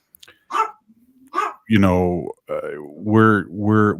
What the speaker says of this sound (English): while I let the dog out here for a second